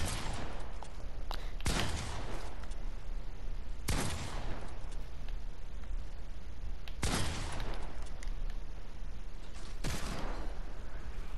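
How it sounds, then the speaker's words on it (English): Video-game gunfire from shooting at enemies, heard as a handful of loud, sharp blasts spaced a few seconds apart over a steady noisy background, with no talking. "let's shoot some things"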